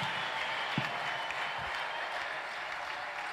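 A church congregation applauds steadily, with sustained clapping that stays even in level throughout and no break in the sound.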